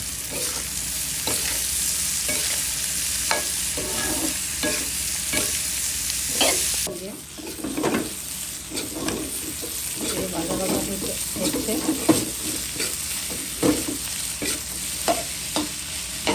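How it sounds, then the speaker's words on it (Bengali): Papaya and whole green chillies fry in a pan while a spatula stirs them in steady, repeated scraping strokes over a continuous close sizzle. "গোটা কাঁচামরিচ আর পেঁপে অল্প আগে ভেজে নেব"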